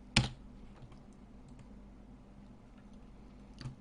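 A few quiet keystrokes on a computer keyboard, a sharp click at the start and another near the end with faint taps between, close and soft over a low background hum.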